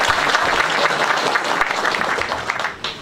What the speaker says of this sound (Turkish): Alkışlayalım hep beraber.